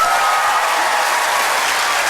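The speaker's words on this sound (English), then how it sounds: "Applaud if you think it's in box number 2." Loud, continuous applause from a big theatre audience at a mind-reading stage show, clapping as a vote for a box, a thick even wash of many hands with no break.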